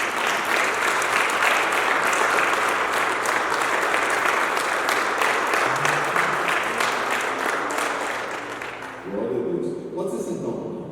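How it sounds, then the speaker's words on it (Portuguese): A church congregation applauds at a Thursday evening service, steady dense clapping filling the room for about nine seconds before thinning out as a voice begins speaking. "Uma salva de palmas para Jesus."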